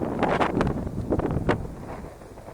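Strong outdoor wind buffets the microphone with a loud, rough rumble and gusty surges while a Parrot Bebop 2 drone flies nearby.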